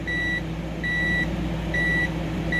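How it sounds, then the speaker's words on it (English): A multimeter continuity tester beeps in short, evenly spaced pure tones, three full beeps and the start of a fourth, while checking a relay from a 2003-2006 Ford Expedition, over a steady low hum. "once my multimeter makes a sound, which you guys gonna hear, it's gonna work"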